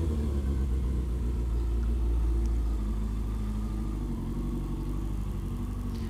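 Suzuki RF900R motorcycle with an aftermarket exhaust, a steady close, loud low engine rumble that holds a fairly even note throughout with no clear rev swells, and no voices.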